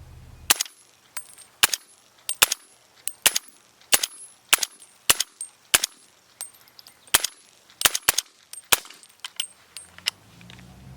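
A suppressed PSA JAKL rifle in 300 Blackout fires about fifteen sharp, dry reports in an irregular string, some in quick pairs, each clipped short and close, with quiet gaps between them.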